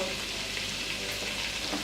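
Ground cumin, coriander and chilli powder sizzle as they are added to oil in a pan for soya korma, steady frying with light stirring, close and continuous, no voices.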